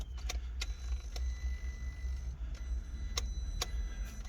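A series of sharp, irregular clicks sounds over a low engine-bay hum as the ignition key is turned on a 2003 Porsche Boxster that sat unused for over four years, about eight distinct ticks across a few seconds.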